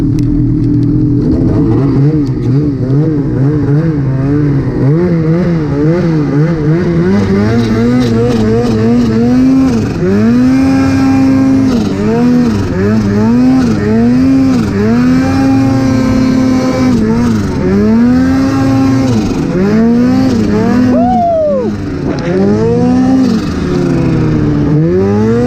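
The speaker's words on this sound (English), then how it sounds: "Generation 4 Skidoo 850 is an absolute blast to ride." A 2019 Ski-Doo Gen 4 850 turbo snowmobile with a Boondocker Sidekick turbo and a 165-inch track revs hard while ridden through snow, its loud, close engine note repeatedly rising and falling with the throttle.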